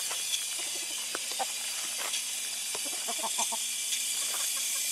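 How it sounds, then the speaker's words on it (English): Soft clucking and pecking from hungry chickens eating in a coop, scattered short calls over a steady background hiss, fairly close. "those poor chickens are so hungry now they're eating"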